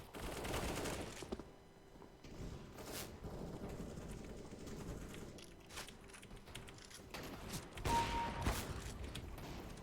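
Gunfire in the video game CS:GO, with bursts of rapid shots and scattered single cracks over busy game sounds at moderate level, without clear talking.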